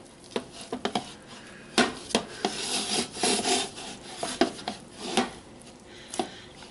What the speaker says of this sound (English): Get your dough out of the beautiful container and roll that in the oil.